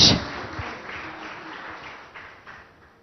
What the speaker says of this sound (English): Can we have a round of applause once again and commemorate this launch?